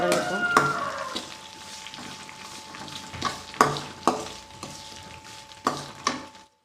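Onions sautéing with salt in a pan for prawn thokku, a soft steady sizzle broken by repeated scraping stirs of a spoon, several sharper clanks against the pan toward the end, with no voices.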